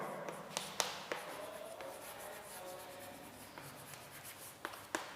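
A formula written out by hand on paper, scratchy pen strokes with scattered taps and short pauses, quiet and close with nobody speaking.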